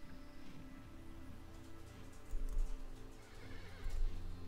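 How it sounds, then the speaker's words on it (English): A tired horse in a video game whinnies and snorts, with heavy hoof clip-clops thudding close and loud in two bursts over a steady ambient background. "Oh, the horse is tired."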